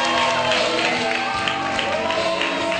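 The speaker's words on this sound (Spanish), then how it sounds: "Y nuevamente este aplauso caluroso para todos ustedes." Warm applause from a studio audience for a band on a Bolivian TV show, a steady dense wash of clapping and crowd noise lasting throughout, with voices mixed in.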